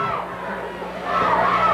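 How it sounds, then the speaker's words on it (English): A joyous home crowd at a Hereford versus Dumas high school game in Dumas, a dense murmur of chatter and cheering that swells toward the end, with a voice talking over it. "it's a joyous crowd here in Dumas tonight"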